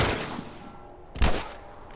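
A couple of sharp gunshots in The Last of Us Remastered, one near the start and a louder crack about a second later, ringing out over a quiet snowy backdrop.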